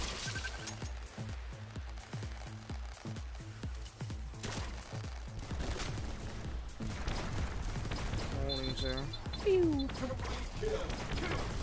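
Heat-seeking missile launcher fires repeatedly in the Swarm VR video game, loud punchy shots and crashing impacts over a dense, busy game soundtrack with rising whooshing tones near the end.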